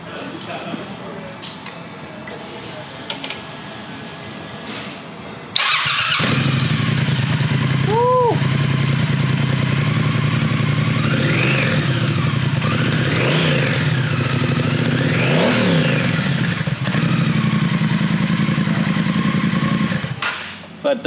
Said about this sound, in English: I want to let you hear this engine because I think it sounds fantastic